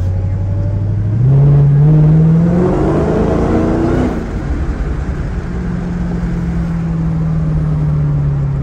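A Dodge Challenger Hellcat's engine drones loud and close while driving in Las Vegas, with a steady tone that climbs sharply as it revs, drops back, then settles into a sustained cruise.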